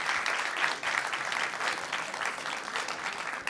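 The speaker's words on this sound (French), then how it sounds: "est-ce qu'on peut les applaudir parce que là, ils sont vraiment devant vous" Sustained audience applause at a town gathering, a dense even wash of many hands clapping throughout, moderately distant and steady without pause.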